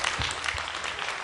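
A brief burst of audience applause, a dense, moderately loud patter of clapping from a gathered crowd lasting about a second, with a couple of low thumps underneath.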